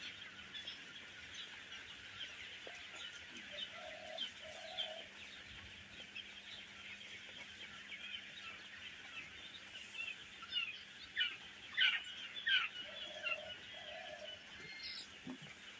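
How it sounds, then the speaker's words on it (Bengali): Tiger breed chickens and chicks on a poultry farm give soft scattered clucks and a few short calls, faint and somewhat distant against a quiet background hum. "এটা হলো টাইগার মুরগির বাচ্চা"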